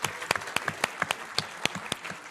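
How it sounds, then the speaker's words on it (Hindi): A studio audience at a televised Hindi debate show applauds steadily: dense, loud clapping with individual sharp hand claps standing out throughout, with no talk over it. "तो उनके लिए भी ताली बजा दीजिए"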